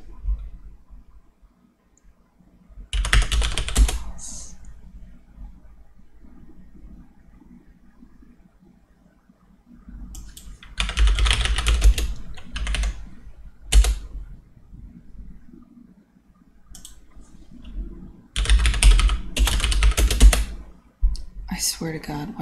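Bursts of computer keyboard typing come in three clusters of rapid clicks, fairly close and moderately loud, with quieter gaps and faint background hum between them during a game development session.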